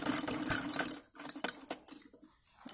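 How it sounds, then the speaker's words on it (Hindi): Quiet sewing machine stitching rows on a salwar pocket: a run of fast, light mechanical clatter that stops abruptly, followed by sparse clicks and taps of fabric handling, all without voices. "इसके बाद हम अगली सिलाई लगा लेंगे"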